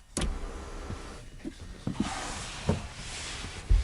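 Motor whirring as a 2018 BMW X4 xDrive M Sport's panoramic roof opens, a steady mechanical drone with a few soft clicks and thumps, close inside the cabin and heard alone.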